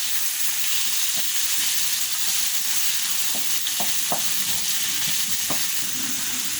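Tomatoes, carrots and chopped capsicum frying with liver while being stirred, loud steady sizzle with hissing steam and scattered scrapes and taps of the spoon against the pan.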